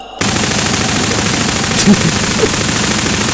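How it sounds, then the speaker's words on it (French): The basic machine gun from Half-Life firing in Garry's Mod, a loud continuous burst of rapid automatic gunfire that starts abruptly after a brief silence and runs to the end. "si je prends la mitraillette de base qu'on a dans Half-Life"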